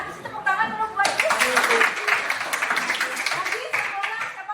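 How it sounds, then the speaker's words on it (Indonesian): Classroom students clap their hands together after brief talk, a burst of close, lively clapping that holds steady for several seconds with a little laughter mixed in. "Tepuk tangan dulu buat itu"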